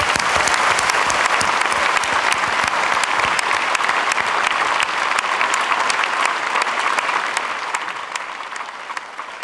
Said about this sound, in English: can we just have a round of applause for the cameraman?